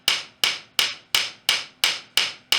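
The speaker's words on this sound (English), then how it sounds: "we'll take the small hammer and we're just going to hit and create a small flat spot in the center of that" A small hammer strikes a hot metal rivet in a blacksmithing shop, eight crisp ringing blows at an even pace, close and clear with no talk.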